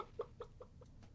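A person imitates a chicken clucking, a short series of about five evenly spaced clucks that fade out, faint and slightly echoey, with no talking.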